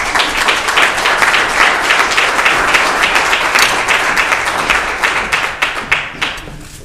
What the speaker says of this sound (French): J'aimerais qu'on applaudisse chaleureusement Mme Denise Saint-Gelais pour venir prendre